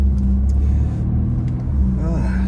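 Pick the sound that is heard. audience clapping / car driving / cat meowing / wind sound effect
car driving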